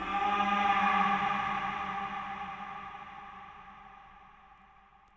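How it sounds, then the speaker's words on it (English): Reversed audio with heavy reverb, a dense tonal wash that starts full and loud, then slowly thins and fades out over several seconds before a sudden click at the end. "It sounds cool just reversed with the reverb on it."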